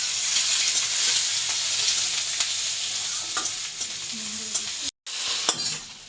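Bay leaf, panch phoron, dried red chili and onion frying in hot oil for a dal tempering: a loud, continuous close sizzle with stirring scrapes, broken by a brief cut near the end.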